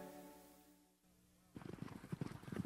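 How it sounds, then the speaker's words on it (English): Horse hooves clatter in a quick, steady gallop that starts partway in and grows louder and closer after a stretch of sustained musical tones. "we rode and rode as fast as our horses could travel"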